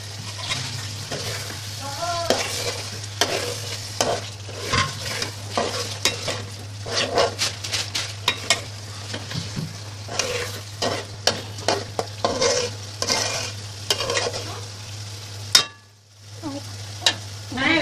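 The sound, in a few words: masala with cumin and coriander powder frying and being stirred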